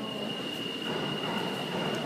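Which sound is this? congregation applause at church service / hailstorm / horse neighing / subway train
subway train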